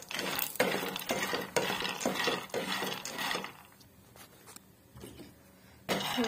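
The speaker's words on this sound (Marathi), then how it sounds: "चला हे पहा मी बदाम टाकून घेतलेत, त्यानंतर थोडं थोडं हलवून घेऊया।" Almonds are stirred while roasting in ghee, with loud, rhythmic scraping strokes against the pan at first, then quieter occasional scrapes and a final stroke at the end.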